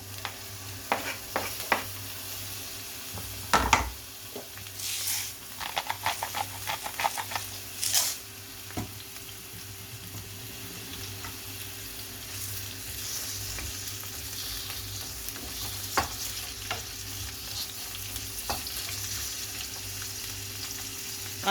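Onion sizzling as it is sautéed with chicken liver in a pan, a continuous close hiss broken by scraping stirs and sharp clicks of a utensil, with no speech.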